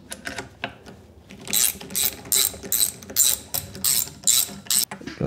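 A ratchet tightens bolts on an umbrella tool changer of a machine tool, producing a steady series of rapid, close clicking bursts in a regular back-and-forth rhythm, with no talking.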